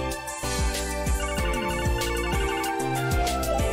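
Portable communicator ringing in the video game Trails from Zero: a loud, repeating electronic ringtone melody with rhythmic pulses, running throughout over a busy musical backdrop, no speech.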